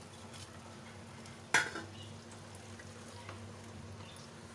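Veg chilli cooking in a pan on a gas stove, a steady low sizzle with one sharp scrape of a spoon stirring partway through, close and fairly quiet, no talking.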